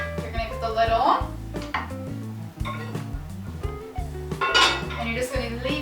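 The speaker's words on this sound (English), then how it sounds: "You're going to put the lid on." A lid is set onto a pot of stuffing mix with the heat turned off: a few close metallic clanks and knocks of cookware over a steady low background.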